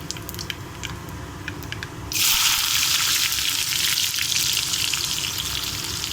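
Chopped onions hitting hot oil in a pan for sambar: a quiet background crackle suddenly swells into a loud, dense sizzle that keeps going steadily without speech.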